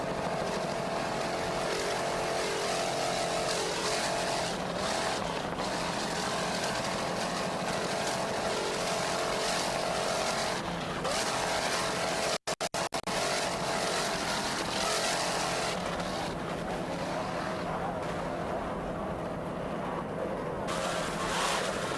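Engines of a 28-foot Skater offshore racing powerboat with twin 2.5 EFI outboards, running in S-Class at a 1993 US offshore race in Fort Lauderdale; a loud, steady roar continues throughout, with one brief dropout midway.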